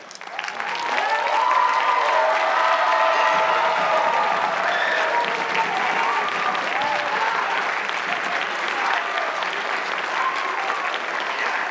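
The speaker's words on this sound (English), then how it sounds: "please stand up and receive your applause" A high school band concert audience applauds five award-winning musicians. Clapping swells within the first second into a full, steady ovation that lasts about eleven seconds, with cheers and voices mixed in.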